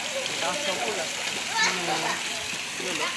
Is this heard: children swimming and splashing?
yes